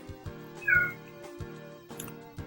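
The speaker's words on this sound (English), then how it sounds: "I don't know if you can hear the cat meowing at the door." A cat meows once, clear but muffled as if behind a door, over a steady electronic tone with soft clicks and thumps nearby.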